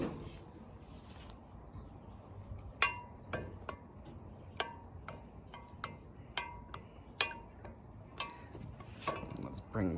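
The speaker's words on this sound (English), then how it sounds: "Give it a good stir." A spoon stirs homemade lemonade of lemons, sugar and water, sending repeated light clinks against the container at an uneven, loose rhythm over a quiet background hiss.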